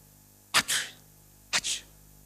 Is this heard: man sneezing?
yes